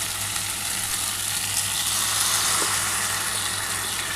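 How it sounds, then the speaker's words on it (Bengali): Steady, loud, broadband sizzle and hiss as a little water goes into a pan of frying potato and cauliflower curry, continuous and close with no talking. "এবার সামান্য অল্প একটু জল দিয়ে দিচ্ছি।"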